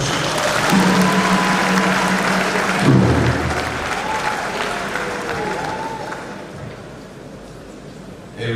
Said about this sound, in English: A round of applause again for our minister